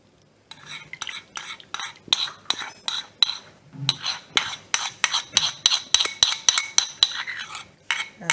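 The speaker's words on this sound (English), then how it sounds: "So the butter is going to mix with the sugar." Butter and sugar are beaten together in a bowl for chocolate chip cookies, a rapid series of close scraping, clinking strokes against the bowl in an even rhythm, with no talk.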